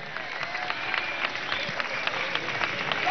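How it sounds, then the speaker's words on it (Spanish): A crowd at an outdoor education march in Venezuela applauds for a woman, steady dense clapping at moderate distance that holds for the whole stretch. "Yo sí, Carrizo, un aplauso a esta mujer, güey."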